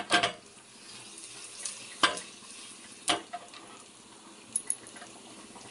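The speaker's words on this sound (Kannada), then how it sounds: "ಇವಾಗ ಒಣಮೆಣ್ಸಿನ್ಕಾಯಿ, ಕರ್ಬೇವಿನ ಸೊಪ್ಪು ಹಾಕ್ಕೊಂಡಿದ್ದೀನಿ" Dry red chillies and curry leaves sizzle in hot oil for a tempering for cauliflower dal sambar, a soft steady frying hiss broken by a few sharp stirring clinks.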